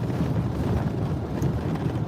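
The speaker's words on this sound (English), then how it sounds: "It's very windy and dusty." Strong, dusty wind in severe heat buffets the microphone with a constant low roaring rush, gusting unevenly, with no voices.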